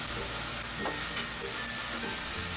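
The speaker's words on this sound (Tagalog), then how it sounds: "Ipan-fry lang natin tong hiniwang patatas ng ilang minuto hanggang mag-iba ang kulay at magkaroon ng kaunting lutong." Sliced potatoes pan-fry in hot oil until they colour and crisp a little, giving a dense, steady sizzle that stays loud and close throughout, with no talking.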